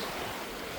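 Sea waves washing in at Casuarina Beach in Jaffna, a steady broad wash of surf with wind noise buffeting the microphone, continuous and fairly close throughout, with no voices.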